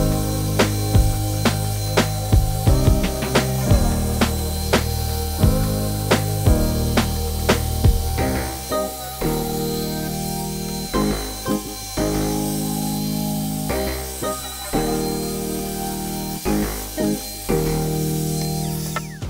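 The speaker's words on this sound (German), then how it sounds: "Ich lasse das ganze Ding eingespannt, dann habe ich mehr Kraft einfach zum Schleifen." A wooden Halloween pumpkin held in a clamp is sanded by hand in rhythmic, repeated scraping strokes, steady and close, with brief pauses between bursts and no talking.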